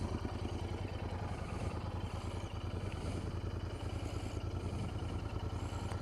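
Royal Enfield Interceptor 650 motorcycle idling nearby, a steady, even low-pitched thrum with a rapid regular pulse and light mechanical clatter, constant in loudness throughout.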